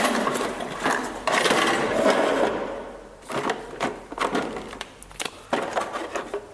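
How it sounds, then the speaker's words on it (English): Old drill countersinking holes in arcade cabinet panels, a close whirring grind followed by a series of short bursts and clicks, with no voices. "Now it's to countersink all the holes."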